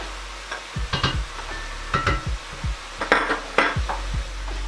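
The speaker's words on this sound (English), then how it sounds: "We're going to stir that in thoroughly and allow it to cook for around 3 minutes." Tomato puree being stirred into a beef ragù cooking in a pan: a utensil scrapes and knocks against the pan in short irregular bursts, close and clear, with a faint sizzle beneath.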